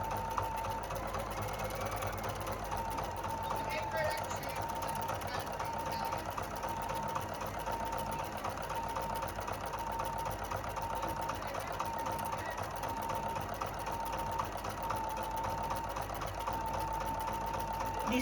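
A Husqvarna Viking Ruby 90 sewing machine runs a steady tack-down stitch on appliqué letters, a continuous even whirring hum that stays close and constant throughout.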